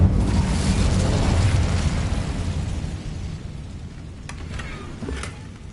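The Incendio fire spell erupts in Hogwarts Legacy with a loud, dense roar of flame that rumbles steadily for several seconds. A few faint crackles sound near the end.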